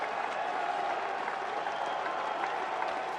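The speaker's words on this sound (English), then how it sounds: "Those guys have been clapping all night long." A baseball crowd at an Orioles–White Sox game applauds as a strikeout looms, a dense steady wash of clapping that holds at an even level throughout, with no talking.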